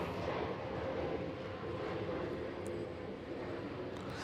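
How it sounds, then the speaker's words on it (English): Airplane passing overhead gives a steady, faint broadband roar that holds evenly throughout, distant and unaccompanied by talk. "Another airplane."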